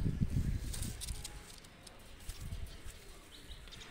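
Two pigeons are let go, with soft low cooing and muffled wing flaps close by at first, then quieter rustling and a few faint chirps.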